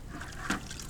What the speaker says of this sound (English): so I can dip it back in my water